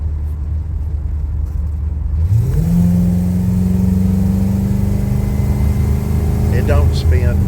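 A 1993 Toyota pickup pro touring show truck on big tires accelerates away, its engine note climbing in pitch and holding a loud, steady rumble nearby, with people talking over it.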